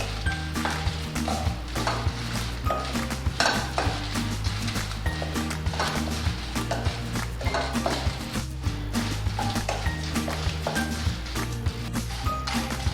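Curry leaves hit a hot pan for idli chutney powder, sizzling and crackling under busy stirring and clinks of a utensil against the pan, with a dense, continuous rhythm.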